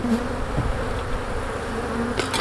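Honeybees buzz steadily around a beehive being handled during preparation for wintering, a close, continuous drone with no talking.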